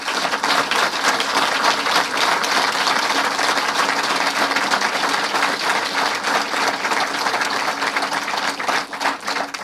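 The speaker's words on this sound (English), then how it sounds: "Let's give them all a big round of applause" Steady, dense applause from an audience at a Veterans Day rally honoring veterans, continuous and loud through the whole stretch without a break.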